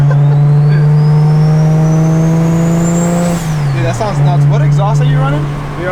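A single-turbo BMW 335 with N54 engine and VRSF exhaust accelerates hard, its loud rising engine note climbing steadily for about three seconds before a shift and renewed pull, with people talking over it.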